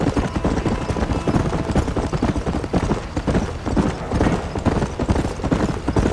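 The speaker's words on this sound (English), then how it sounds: "I guess we'll be riding horses now." Horses ridden in the Red Dead Redemption video game clop along in a dense, steady run of hoofbeats, loud and close, with no pauses or talk over them.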